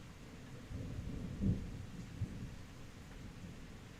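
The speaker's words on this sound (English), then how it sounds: "The thunder's just still going." Distant rumbling thunder during a rainstorm, low and faint, with a couple of deeper swells over a soft background of rain.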